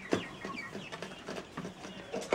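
Chickens and roosters cluck and murmur continuously nearby in a poultry yard, with a few sharper calls breaking through the busy, overlapping chatter of the flock.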